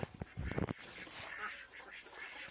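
Several quick, nasal duck quacks burst out close by at the start, then fade into a steady outdoor hiss.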